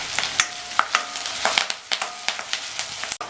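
Chopped onion, ginger, green chili and curry leaves sauté in a pan for upma, a crackling sizzle broken by repeated sharp clicks and scrapes of a spoon stirring.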